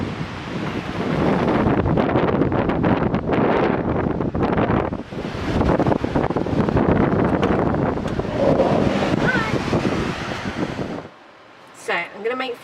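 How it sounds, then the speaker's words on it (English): Strong gusty wind buffets the microphone in loud, roaring bursts, with people talking underneath, before dropping away near the end. "it is quite windy and most of the ingredients are going to blow away"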